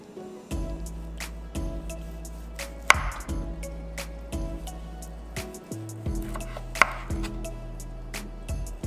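A knife slices through rotisserie air fryer roast beef onto a cutting board, giving a steady series of soft thuds and cuts at close range, with a couple of sharper clicks in between.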